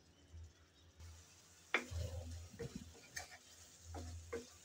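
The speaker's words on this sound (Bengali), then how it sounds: "আমি নেড়ে চেড়ে 2-1 মিনিট কষিয়ে নেব" Bottle gourd and prawn curry stirred and sautéed in a pan, quiet scraping and shuffling strokes in short bursts with a low hum underneath, fairly faint and without speech.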